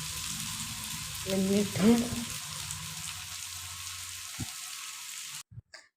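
Sliced onion and crushed ginger sauté in a pan for a chicken dish, giving a steady close sizzle with a brief spoken word and a short stir. The frying stops abruptly near the end.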